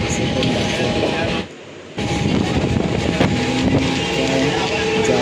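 A suburban commuter train runs toward Juinagar station, heard from inside the carriage as a loud steady rumble with clacking wheel noise, a brief dip in volume, then the roar resuming.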